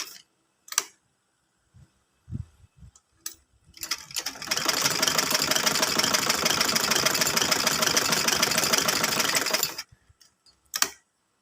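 A sewing machine stitches the side seams of a V-neck garment, running in one steady, continuous burst of about five seconds, with a few sharp handling clicks and bumps before and after.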